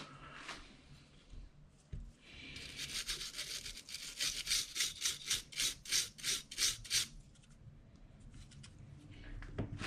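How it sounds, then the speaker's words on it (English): A Nintendo 64 cartridge's contact pins are scrubbed back and forth with a cleaning tool, giving a series of about ten rhythmic raspy rubbing strokes at close range, faint at first and then steady. "work that back and forth. Don't scrub too hard. We don't want to be bending pins."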